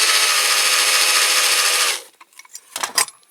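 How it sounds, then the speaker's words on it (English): A small cordless drill whines steadily for two seconds while drilling out rivets on a Dinky Toys Blaw Knox heavy tractor, then stops, followed by light metallic clicks and handling. "I've started drilling those with a small drill, these rivets."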